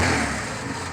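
A Ford 300 4.9-litre inline-six truck engine runs with its oxygen sensor removed, giving a steady, loud, close-up mechanical drone with a rough, tractor-like chug and no talk over it.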